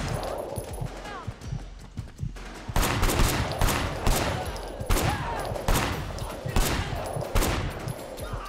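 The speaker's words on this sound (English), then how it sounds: "Shooting him in the legs" Gunfire in the Sleeping Dogs video game: after a quieter start with talk, a string of loud, separate shots and short bursts fires at an irregular pace, close and sharp, with a voice speaking between them.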